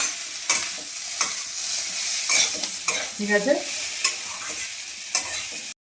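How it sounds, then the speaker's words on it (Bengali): Onions fry in hot oil in a home kitchen, a continuous sizzle broken by scraping stirs and spatula knocks on the pan; a voice speaks briefly near the start. "আর পেঁয়াজ কালিগুলো ভাজা ভাজা হচ্ছে।"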